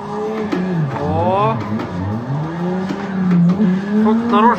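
A Toyota Altezza revs and drifts near a wall, its engine climbing and dropping in repeated loud surges with faint tire noise, while people talk over it.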